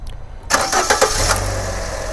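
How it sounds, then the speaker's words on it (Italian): A car engine cranks briefly with a few sputters, then catches and settles into a steady idle close by. "Quindi rimettiamo in moto la macchina,"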